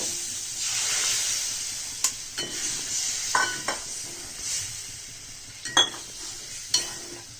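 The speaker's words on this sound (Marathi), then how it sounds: "बटरीत बेसन काढून घेतले पाणी टाकून, हे याच्यात कढईत टाकायचं" Gram flour batter goes into a hot kadhai for besan bhakri, giving a steady soft sizzle with a few sharp scraping and stirring knocks against the pan, close and moderately quiet.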